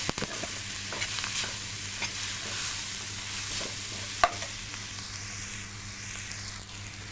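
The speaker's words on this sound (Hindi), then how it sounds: "अब इसको अच्छे तरीके से हम फ्राई करेंगे सारे मसाले।" Spices and crushed coriander fry in a pan while being stirred, a continuous close sizzle broken by scraping spoon strokes and one sharp clack, with no voices.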